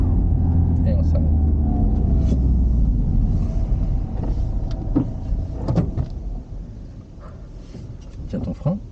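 Car engine revving and rumbling as a learner driver accelerates during a driving lesson, a steady low drone that eases slightly toward the end, with people talking over it.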